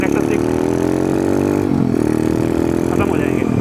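Motorcycle engine running steadily under load while riding in first gear, a continuous mid-pitched drone with a slight dip partway, heard close alongside someone talking.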